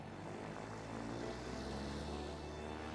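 An airplane flies in the video game A Way Out, giving a steady, dense propeller drone that holds at an even loudness throughout with no talking.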